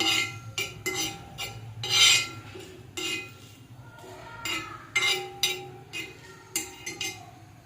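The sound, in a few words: spices popping while dry roasting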